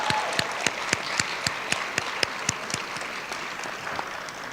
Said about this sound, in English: Now, I know you can clap on that one because it was good.